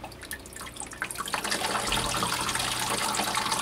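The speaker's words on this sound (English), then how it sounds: "You can see it's a very light mix because as soon as I touch it," Water poured onto the light potting mix of a paphiopedilum orchid runs straight through. It starts with scattered drips and splashes, then becomes a steady, close trickling and gushing flow.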